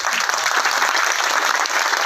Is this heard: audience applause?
yes